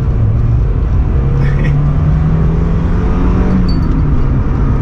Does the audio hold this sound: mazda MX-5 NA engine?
yes